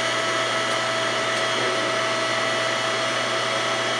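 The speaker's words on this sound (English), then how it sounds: "So he literally has a vacuum hooked up to a tube. You can hear that running." A vacuum hooked up to a glassblowing tube runs steadily, a loud constant whirring motor drone with an even hum and no pauses, heard alone without talk.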